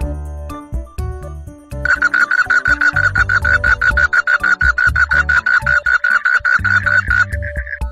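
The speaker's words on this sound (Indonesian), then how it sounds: "Ini adalah katak." A frog croaks in a fast, loud, evenly pulsing run lasting several seconds, close and clear, with brief tonal calls before and after it.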